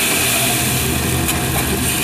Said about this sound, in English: That's the sound of the gigantic rollers directly beneath me.